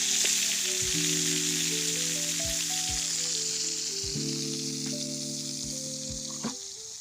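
Jellyfish or squid is stir-fried in a pan, giving a steady, close, crackling sizzle throughout under a soft tonal melody, with no one talking.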